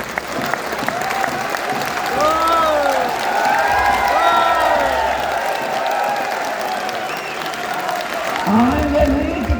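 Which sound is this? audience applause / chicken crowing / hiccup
audience applause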